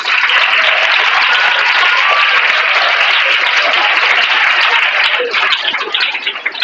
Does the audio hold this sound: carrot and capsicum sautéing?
no